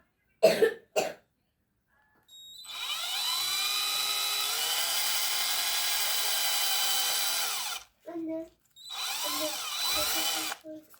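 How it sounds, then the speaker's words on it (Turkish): A power drill bores a hole in the top of a round piece, running steadily with a high whine for several seconds, then restarting in short bursts, preceded by a couple of brief knocks. "Bir de arkadaşlar bu tarafa koyduğumuz bu ilk yuvarlağın üst kısmından bir delik deliyorum."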